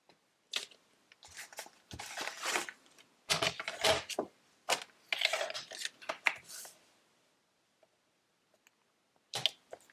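Scissors cut a strip of patterned paper for card making, giving a close run of crisp snips and rustles in a quiet room, then a pause and a last snip.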